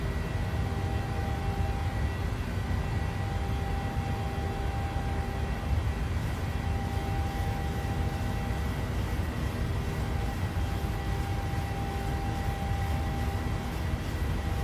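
A PMDG 737-700 climbs out of Chicago Midway in Microsoft Flight Simulator, its jet engines giving a steady, loud, unbroken roar with a faint whine, heard alone without any talking.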